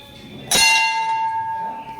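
A metal temple bell inside a Hindu shrine is struck once, a sharp clang followed by a clear, sustained ringing tone that slowly fades.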